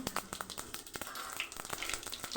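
Mustard seeds, cumin and dried red chillies hitting hot oil in a kadai, a steady crackling sizzle with scattered sharp pops and spits throughout.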